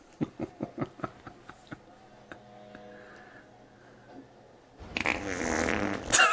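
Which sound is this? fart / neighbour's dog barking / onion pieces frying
fart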